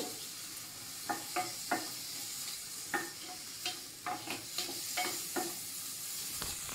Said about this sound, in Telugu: జస్ట్ ఆయిల్లో కొంచెం సాటే చేసుకున్నట్టు చేసుకోవాలి